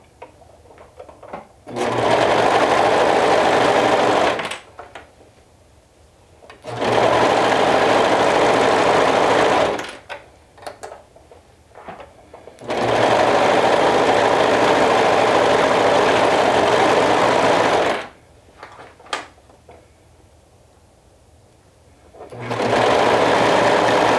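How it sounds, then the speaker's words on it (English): A sewing machine sews a sleeve seam at half-inch allowance in loud steady bursts of several seconds each, separated by short quiet pauses, with no talk. "So let's go ahead and sew that down with 1/2 inch seam allowance."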